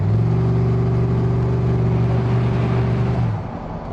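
A V8-swapped Toyota Celica GT accelerates under load with a loud, steady engine drone heard from inside the car, which drops off abruptly near the end.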